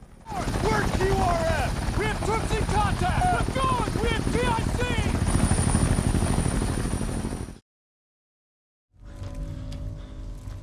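An Apache helicopter in a war film gives a loud, steady rotor roar with indistinct voices over it, then cuts to silence before a fainter rumble returns.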